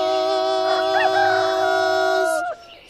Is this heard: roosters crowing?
yes